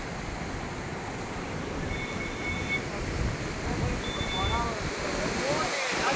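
The river at Harike Pattan in Punjab rushes past in a loud, continuous wash of flowing water, a steady broadband roar without pause.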